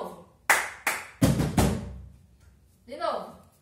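Four crisp percussive strikes in a steady rhythm, hand claps and palms beating a table in an elementary school music class, up close, followed by a voice speaking after the pattern ends.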